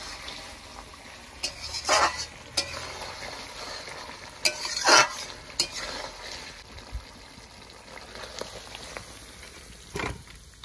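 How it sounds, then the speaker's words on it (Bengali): A rohu fish curry with poppy seed paste and chopped coriander stirred in a pan, a low bubbling simmer with a handful of sharp spoon scrapes and clicks spaced irregularly, close by and without talk. "এবার একটু নেড়ে চেড়ে নামিয়ে নেব"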